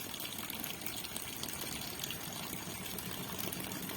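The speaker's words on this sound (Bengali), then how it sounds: "নাও কলে জল পড়ছে" Water pours from a newly installed tap at the back of a village house in a steady, unbroken rush that stays even and fairly close for the whole stretch, with no voices.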